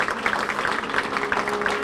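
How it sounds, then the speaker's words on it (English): Audience applause at a Veteran of the Year award ceremony, steady dense clapping sustained throughout, fairly close and even in level. "I want a nice round of applause"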